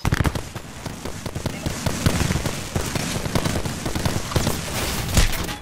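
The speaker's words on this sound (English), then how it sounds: "Look out, grenade." A grenade blows up during a fast battle royale shooter match, set among sharp bursts, cracks and gunfire that keep coming for several seconds, loud and close.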